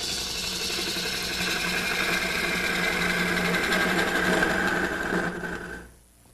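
Wood lathe spinning a mesquite blank into a Christmas tree, a steady close whirring hum with faint tool scraping that runs evenly, then winds down and fades at the end.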